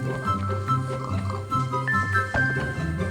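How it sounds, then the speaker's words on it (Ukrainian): A pig oinks in the Minecraft video game, short grunting calls repeating over about three seconds beside game sounds, with no talk. "Давайте заперепехаємо цю свинку."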